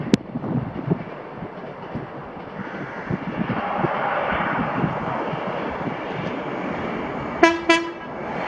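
A ScotRail passenger service from Inverness to Edinburgh rumbles past Blair Atholl, its wheels and engine building into a sustained roar, then two short horn blasts sound near the end.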